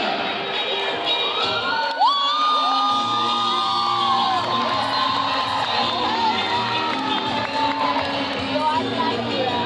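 A large crowd cheers and whoops continuously in a school gymnasium, loud and sustained, with shrill young voices shouting over the roar.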